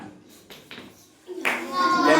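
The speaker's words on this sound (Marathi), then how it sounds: "टाळ्या वाजव त्याच्यासाठी" Brief burst of clapping from a small group during a fun party game, rising sharply after a few scattered claps, with children and adults talking over it.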